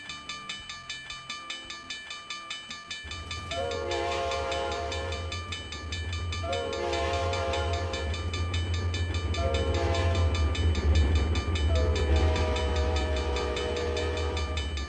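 A passing train rumbles loudly and steadily while its horn sounds four long blasts, each a few seconds apart, with no voices over it.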